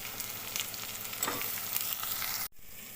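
Ivy gourd pieces frying in a pan with onion and turmeric, a steady close sizzle with scraping stir sounds, cutting off abruptly near the end.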